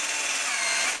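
A 14.5-volt Bonchi cordless drill bores into concrete with a steady, loud, dense whir and grinding that carries unbroken for a full second before easing slightly at the end, with no talking.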